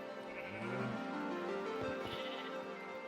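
Sheep bleat from a sheep farm in a blocky video game world, a near, drawn-out wavering call layered with another bleat, alone with no talk.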